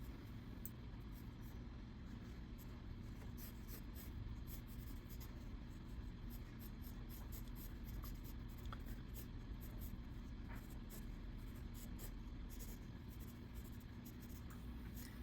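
Pencil drawing and erasing on paper while sketching cartoon hands: faint, scratchy strokes and rubbing come and go over a steady low background hum, quiet and close.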